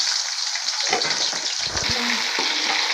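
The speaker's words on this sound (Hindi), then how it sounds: "शिमला को करेंगे हम फ्राई, इसकी कड़वाहट जो होती है वो ख़त्म हो जाती है।" Sliced capsicum (shimla mirch) fries in hot oil in a pan for a chicken dish, giving a steady, close sizzle and spatter that continues throughout, with a brief stirring clatter in the middle.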